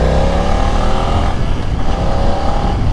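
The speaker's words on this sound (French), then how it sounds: "Je vais accélérer un tout petit peu, voir si en mode rain ça répond quand même." BMW F 900 XR motorcycle, 2023 A2-restricted version, accelerating gently in rain riding mode, a steady, continuous engine drone building smoothly and linearly over a few seconds, close and fairly loud.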